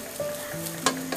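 Rice grains fry in a pan with a close, continuous sizzle, broken by a few brief stirring scrapes.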